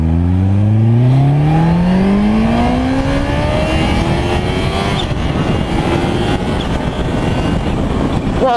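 A 2016 Kawasaki H2 motorcycle accelerates hard, its engine whine climbing steeply through the gears, loud and close, with a quick shift and the roar building again before settling into a sustained high-speed rumble.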